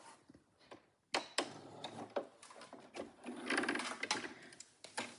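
A sewing machine stitches through a knitted sweater for a coffee cup, running in uneven bursts with short pauses and brief starts and stops, close and fairly loud, with no talking.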